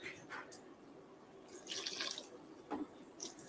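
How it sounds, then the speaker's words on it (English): Faint tap water splashing and trickling into a pot in a kitchen, irregular bursts and drips, soft and close. "I'll just add a bit of water"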